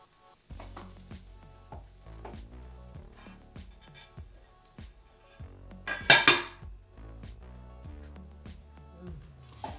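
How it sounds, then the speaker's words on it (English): A grilled cheese sandwich fries in butter in a skillet, giving a soft sizzle under repeated light knocks and scrapes of the pan and utensils, with one sharp metallic clatter partway through. "I like to move the skillet around a little, let that butter kind of do its work."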